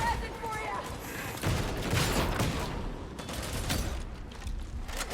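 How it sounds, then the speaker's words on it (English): Enemy gunfire in the video game Darktide, with continuous rattling volleys of shots punching through walls, loud and close, mixed with game noise and talk over the top. "They're shooting me through walls."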